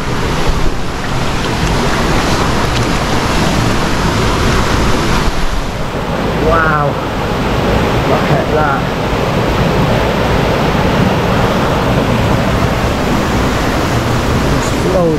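Fast-flowing water rushes near Bayad Waterfall in Bali, a loud, unbroken roar with some wind buffeting, while a person briefly exclaims partway through.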